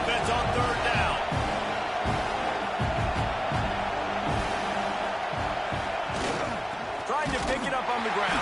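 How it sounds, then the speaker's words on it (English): A stadium crowd cheers during a college football video game matchup between Alabama State and Grambling State on 3rd down, a loud sustained roar with thumping impacts and whoops throughout. "Decibels rising as the crowd gets behind this defense on 3rd down."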